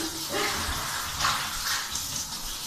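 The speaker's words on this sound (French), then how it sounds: "donc maintenant je vais rincer." Running water rinses a homemade coffee scrub off skin, a steady broadband splashing and trickling from a tap or shower that stays close and continuous throughout.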